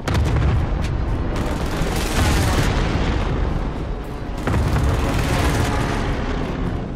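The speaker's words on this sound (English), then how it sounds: "airstrike incoming" Airstrike explosions in a multiplayer video game: loud, sustained booming blasts roll in close together, with a brief lull before a second heavy barrage, and no talk over them.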